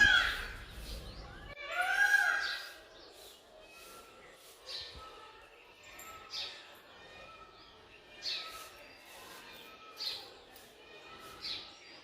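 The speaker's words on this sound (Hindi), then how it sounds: "ये जो आप मोर की और पक्षियों की आवाज़ सुन रहे हो" Peacocks and other birds call outdoors at dawn after heavy overnight rain, a few sharp cries and chirps rising now and then over a quiet background, moderately distant.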